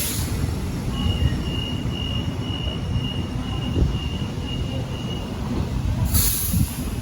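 Sydney train D125 runs through Strathfield station, a loud continuous rumble of wheels on rail with a thin sustained wheel squeal and a sharp hiss of air near the end.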